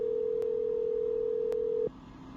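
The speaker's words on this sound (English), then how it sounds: "The phone has to take time to ring, I guess." A telephone call ringing out on the line: a steady electronic ringback tone holds evenly for nearly two seconds, then cuts off, leaving faint line hiss.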